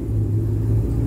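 Chevrolet Camaro engine giving a continuous heavy low rumble, near and steady, with no voices.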